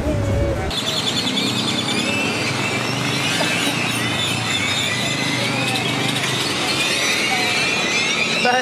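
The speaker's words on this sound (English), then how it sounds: "The birds are coming for us." Birds chirping and tweeting in Tulum, Mexico, at dusk, with a steady noisy outdoor background. Scattered high calls run throughout the clip at a constant loudness.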